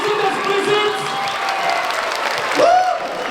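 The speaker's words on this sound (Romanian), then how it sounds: "Hai să dăm un rând de aplauze pentru voi toți" An audience at a drug-awareness campaign talk claps together with some cheering, a dense burst of applause lasting a few seconds that swells briefly near the end.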